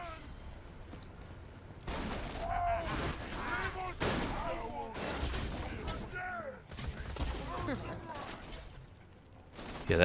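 Sustained bursts of weapon fire in Borderlands 2, with a slow-firing gun going off repeatedly in choppy volleys amid explosions; players talk over the shooting throughout.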